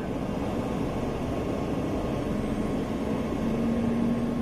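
Helicopter engine running at a steady, loud, continuous drone with a constant rumble and a faint whine rising toward the end, no one speaking over it.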